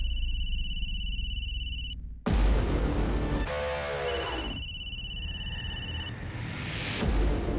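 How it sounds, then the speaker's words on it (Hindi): A telephone rings with a repeating electronic ringtone, heard in bursts at the start and again later, over a dense background of other noise and music-like sound. "उस दिन भी फोन बहुत बज रहा था"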